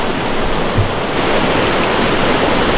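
A river runs close by in a steady, loud broadband rush of flowing water, constant with no breaks and no voices.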